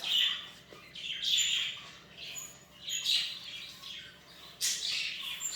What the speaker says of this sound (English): So I'm sure you can hear all my birds in the background.